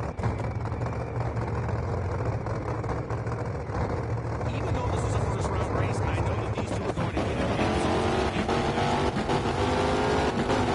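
A drag car in the NHRA Speed For All racing game does a burnout with a sustained roaring, revving engine note under continuous game audio, and the sound builds toward the end.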